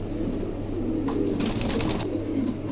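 A pair of pigeons offered for sale coo softly in short bursts over a constant low hum.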